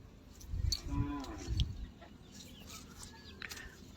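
Cattle in an open field of a wetland pasture low with a deep, drawn-out moo, fairly faint and distant, while birds chirp and rustling goes on in the background.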